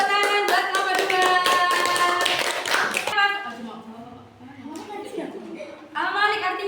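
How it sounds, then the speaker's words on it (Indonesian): Children in a classroom clap their hands together in a quick, steady burst of rhythmic claps that stops abruptly, followed by mixed voices and classroom chatter, then a brief return of clapping near the end. "Tepuk tangan buat nomor 2"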